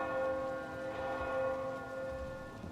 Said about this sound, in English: Ooh, we got bells right in my ear.